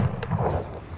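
A single rifle shot rings out while hunting oryx in Namibia, a sharp short crack followed by a brief rolling boom that fades in the open air.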